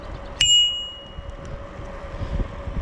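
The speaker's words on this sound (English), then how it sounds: "they hear my bell there" A single bright ding rings out from a bicycle bell on a trail and fades over about half a second, over a steady low rumble of riding and wind.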